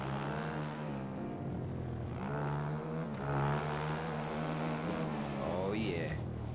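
A dirt bike in the MX Bikes racing game on a forest raceway, its engine revving and droning steadily with a rough, grinding clutch. The sound is continuous and close, and a voice talks over it.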